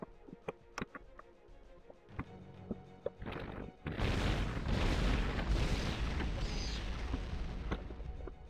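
Sharp clicks and small shots, then a heavy booming blast from a cannon launcher in Turok 2: Seeds of Evil that rumbles on loudly for several seconds.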